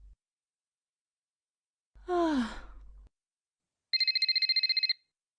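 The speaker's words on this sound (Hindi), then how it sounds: "मम्मी का फोन बज रहा है, किचन में होंगी" A breathy sigh, then a telephone rings in a quick electronic trill lasting about a second; close and clear, no talking.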